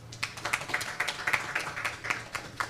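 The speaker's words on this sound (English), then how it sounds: "Please give them a big round of applause" Audience at a writers' gathering in Kigali, Rwanda clapping for panelists, a light scattered patter of hands over a low room hum, steady and moderately quiet throughout.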